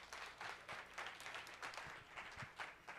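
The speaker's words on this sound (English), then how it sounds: "one more round of applause for Henry," Faint, distant applause from a conference audience in a hall at Devcon in Bogotá. The clapping pulses unevenly and continues steadily throughout.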